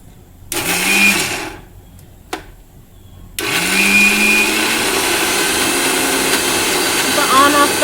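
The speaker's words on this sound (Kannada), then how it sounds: "ಇವಾಗ ನೋಡಿ ಸ್ವಲ್ಪ ಮಿಕ್ಸಿ ಮಾಡ್ಕೋಬೇಕು." A kitchen mixer grinder coarsely grinds soaked black-eyed peas for vada, running in a loud, steady whir, first in a short burst, then a pause, then a longer continuous run with motor pitch shifts.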